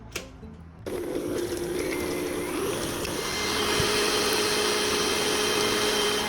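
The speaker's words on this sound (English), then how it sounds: "So let's get that whisking." An electric whisk mixing honey and whole milk yogurt for carrot cake batter, a steady motor whine that starts abruptly and runs continuously at a close, even level.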